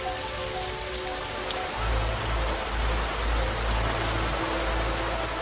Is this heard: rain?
yes